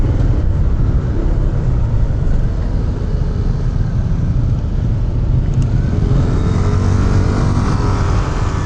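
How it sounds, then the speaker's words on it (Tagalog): Road traffic in Old Gapan, Nueva Ecija, heard as a steady, loud broadband engine rumble and road noise from a car moving through congested streets, continuous throughout with no talking. "Traffic."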